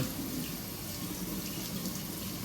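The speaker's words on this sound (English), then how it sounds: "This one, you'll rinse from the inside. Just kind of rotate as you go and let it just run on through." Steady water stream rinsing a K&N engine air filter from the inside for a 2018 Silverado 5.3, a continuous close hiss and splash with no talking.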